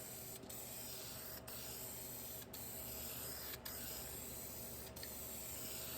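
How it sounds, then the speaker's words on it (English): Spray gun applying black paint to the door panels of a 1966 Plymouth Belvedere, a steady close hiss running throughout, broken by brief sharp pulses about once a second. "So we're gonna get these taped off, spray it up, and make them a different color."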